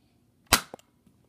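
A modified Nerf blaster fires once, a sharp pneumatic pop followed by a couple of small clicks and rattles, close and alone in a quiet room.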